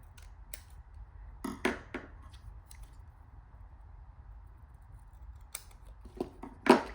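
Scissors snip through strips of paper being trimmed to length for a vellum card project, a few quick separate cuts spaced out near the mic over a quiet room hum.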